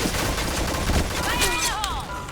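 Continuous rapid gunfire in the online shooter Point Blank, a dense, loud fusillade of overlapping shots throughout, with a voice briefly audible underneath.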